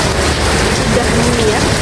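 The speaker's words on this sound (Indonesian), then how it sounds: "Makin hujan guys, ya ampun." Heavy rain pours down as a steady, dense hiss that fills the whole clip, loud and close, with no break in the downpour.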